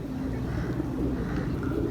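A pigeon coos repeatedly in low, soft, throaty notes against steady background noise.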